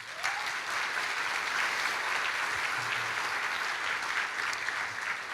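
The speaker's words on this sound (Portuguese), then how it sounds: "dê um aplauso a ele" Sustained applause from a church congregation, a steady even wash of many hands clapping with no talk over it.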